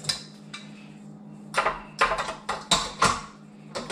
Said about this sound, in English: I'm going to go ahead and throw the butter in here